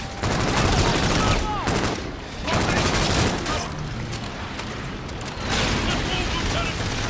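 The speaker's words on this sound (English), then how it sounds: "Oh yeah, I love the sound of this gun." Rapid bursts of automatic gunfire from the shooter game Call of Duty: Infinite Warfare, sustained and loud across the whole stretch with short pauses between volleys and a few heavier booms mixed in.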